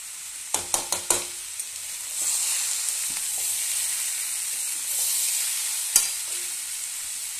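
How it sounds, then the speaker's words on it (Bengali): Ground coriander, cumin and chili powder with ginger fry in oil for a vegetarian curry: a few sharp taps of the utensil first, then a soft, even sizzle with stirring and another tap near the end. "মশলা গুঁড়াগুলো দিয়ে দিলাম আমি, একটু ধনা গুঁড়া, একটু জিরা গুঁড়া, একটু লঙ্কা গুঁড়া, আদা তো তেলে দিয়ে দিয়েছি।"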